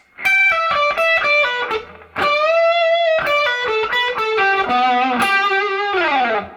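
A distorted electric guitar plays a lead phrase of sustained notes with slides and bends, loud and close, with a short pause partway through.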